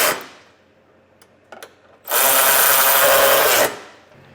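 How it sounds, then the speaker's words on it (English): Hand ratchet snugging trailer hitch bolts on a 2024 Nissan Rogue during a Class III hitch install: a few faint clicks, then a loud, steady ratcheting rasp lasting about a second and a half, close up and alone. "I'm just gonna follow up and tighten them up with my ratchet here just to bring them down snug"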